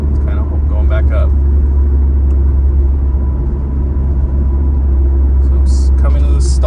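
A 4th-gen Mazda 3 with a Corksport short ram intake cruises in sixth gear at about 60 mph, giving a loud, steady low engine and road drone inside the cabin. Brief voice sounds occur at the start and end.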